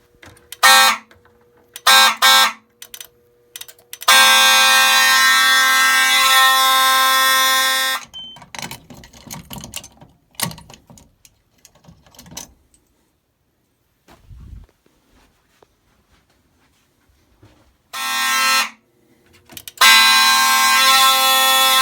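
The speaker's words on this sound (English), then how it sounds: "Let's try it again because you guys didn't get to see this alarm go off." A fire alarm from an alarm system test blasts in loud, harsh bursts. Several short blasts and one long blast are separated by quiet gaps with faint handling clatter, and the alarm then returns with more bursts.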